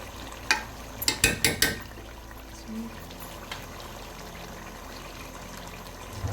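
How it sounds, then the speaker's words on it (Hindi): Food colouring is poured into a pot of chicken Karachi biryani as a quick run of short liquid splashes, followed by quiet background. "अब इसमें डालेंगे ये थोड़ा सा फूड कलर"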